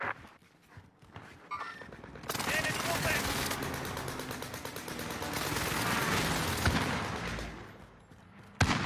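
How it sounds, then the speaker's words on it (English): Airstrike explosions in a multiplayer battle-royale video game, a rolling chain of rapid booming blasts that swells and holds for several seconds after a quieter opening with faint movement noise, ending in a sharp final crack. "Here's the target for airstrike. This is Phoenix 3. Strike inbound."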